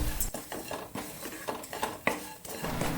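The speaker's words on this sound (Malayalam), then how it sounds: "ഇനി ഇതെല്ലാം കൂടി ഒന്നും കൂടി നമുക്കൊന്ന് വഴറ്റിയെടുക്കാം" Curry leaf mix, carrot and onion are stirred and sautéed in a pan, with repeated scraping and clinks of a spatula and a soft sizzle underneath.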